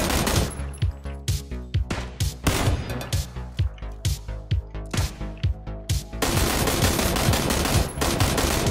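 Rapid automatic gunfire from the PUBG video game rattles in steady, evenly spaced bursts, loud and close, with a dense, continuous stretch of shots near the end and no talking.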